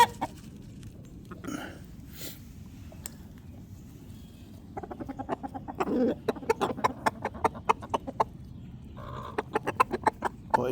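Chickens, including two roosters, cluck in quick, uneven bursts that grow busier after a quiet start, close by and loud over soft background noise.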